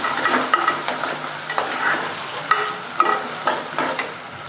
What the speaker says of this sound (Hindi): थोड़ा तड़कने के बाद उसमें एक प्याज हमने पतली स्लाइस में कटी हुई डाल दी,